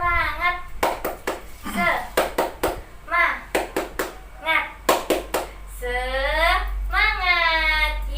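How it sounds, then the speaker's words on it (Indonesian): A sixth-grade class claps a rhythmic spirit-clap pattern, sharp hand claps in quick grouped bursts alternating with children chanting along in unison. "Yuk kita tepuk semangat dulu."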